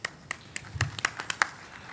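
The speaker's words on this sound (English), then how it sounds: "we thank you with clapping of hands" An audience at a real estate and ROC seminar at Mahajati Sadan claps hands; about eight sparse, separate claps sound fairly quiet and somewhat distant, with no talk.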